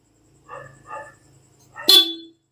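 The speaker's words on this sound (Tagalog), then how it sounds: "Stock horn." Two soft, short beeps of a Honda ADV160 motorcycle's stock horn, followed by a louder, brighter honk that fades quickly; nothing else is heard.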